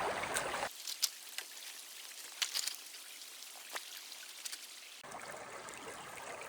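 Water runs steadily through a sluice box set up outdoors for gold prospecting in Montana, a continuous close trickling and splashing with scattered louder gurgles and a brief noisier rush at the start and end.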